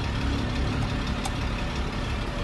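A semi-truck engine idles steadily with a low, continuous rumble close by while the driver shifts into low gear, no voices heard.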